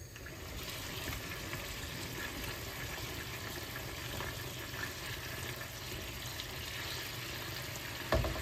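Goose meat cooking in a covered pot without added water, a steady soft sizzle and bubbling hiss that stays even throughout, with a brief clink near the end.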